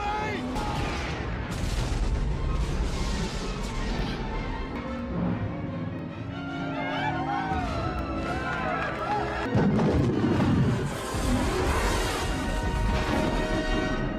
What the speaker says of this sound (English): all these moments where you see explosions coming from inside the ship going out into space